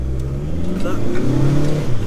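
Audi A3 2.0 TDI diesel engine pulls hard under acceleration, a loud, steady low drone rising in pitch from inside the car.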